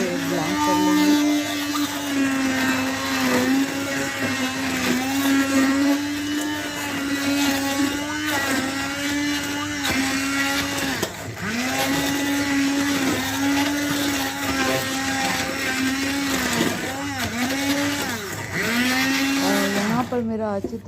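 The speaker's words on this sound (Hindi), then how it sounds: "पुदीना को डालने के बाद अच्छी तरह से ब्लेंड कर लेंगे।" A kitchen blender whirring steadily as it blends washed mint leaves, a loud continuous motor drone with pitch dips as the load shifts, running nearly nonstop at close range.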